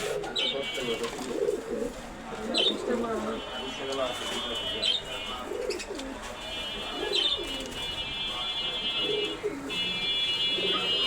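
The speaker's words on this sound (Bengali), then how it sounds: "অনেক কবুতর আছে কবুতরের কোনো শেষ নাই" Many pigeons in a collection coo in a steady, overlapping low murmur close by, while a repeating electronic beep and people talking run over the top.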